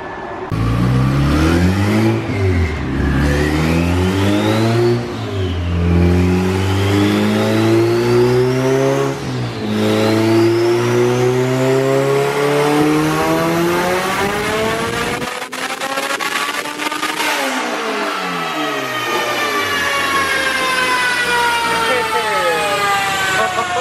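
A turbocharged Honda hatchback making over 500 hp revs hard on a dyno, its engine note sweeping up and down through repeated loud pulls that fill the whole span, with a brief dip before climbing again.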